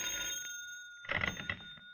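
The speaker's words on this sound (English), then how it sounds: "the phone rings" A telephone bell rings at night in a 1951 radio drama, a steady ringing tone with two louder bursts of ring, close and clear against a quiet room.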